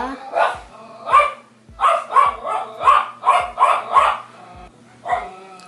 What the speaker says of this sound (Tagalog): Ang ingay ng aso.